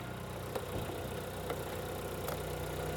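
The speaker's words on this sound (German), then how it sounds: "Ich habe ein bisschen Gas gegeben." A car engine runs at a steady idle with a light rev while the lambda sensor is tested, a low continuous rumble heard close, with faint ticks.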